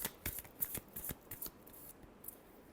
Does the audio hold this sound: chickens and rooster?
no